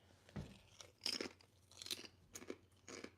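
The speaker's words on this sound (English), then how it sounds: "Everyone listening to my chip crunching" Potato chips crunched close to a microphone during a live stream, a series of five or six sharp, crisp bites and chews spaced irregularly with quiet gaps between them.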